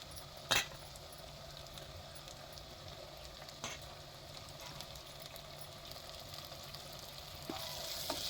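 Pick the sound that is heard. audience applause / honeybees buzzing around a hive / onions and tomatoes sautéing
onions and tomatoes sautéing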